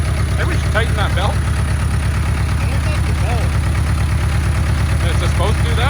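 An Oliver Cletrac OC3 crawler tractor engine runs steadily at idle after firing up, with a close, continuous low throb. Voices talk over it throughout.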